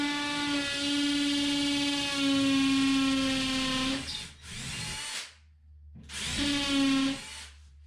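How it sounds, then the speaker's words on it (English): A hammer drill whines steadily as it bores into a bathtub surround wall during a tub-to-shower conversion, a long run followed by two shorter bursts separated by brief pauses, close and with no talk. "hammer drill."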